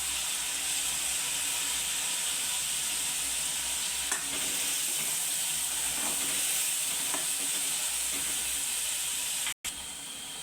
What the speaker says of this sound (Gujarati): જો તો ટમેટા નાખી દેવાના છે।